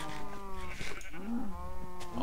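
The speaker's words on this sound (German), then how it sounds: "Eine Kuh hier, die von uns, von unserem Grundstück." Cows in the video game Minecraft give two drawn-out, tonal moos close by, one after the other, with no talking.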